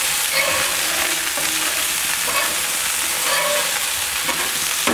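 Burger patties frying in oil in a hot pan, a constant loud sizzle and crackle filling the whole stretch with no talking over it.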